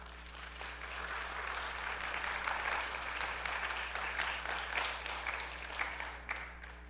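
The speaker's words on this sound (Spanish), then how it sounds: "Dale un fuerte aplauso, Señor." Steady applause from a church congregation, a dense clatter of many hands clapping at moderate distance, sustained throughout with no break.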